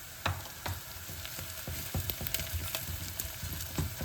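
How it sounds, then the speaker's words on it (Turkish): Tomato paste hits a hot cooking pot, giving a steady, close sizzle and crackle broken by regular soft knocks and scrapes from stirring, with no voices. "Şu salçamı ekleyeyim."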